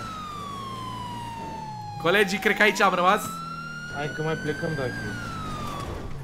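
Police car siren in the FiveM (GTA V) game, a loud sustained wailing tone that slowly falls and then rises, steady throughout while people speak over it in bursts.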